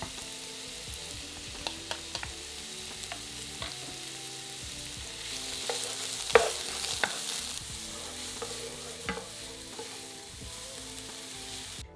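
Finely diced onion, red pepper, minced garlic and chopped chilli sizzle in oil in a pan, a steady, fairly quiet hiss broken by repeated scraping strokes of a spoon stirring the mixture.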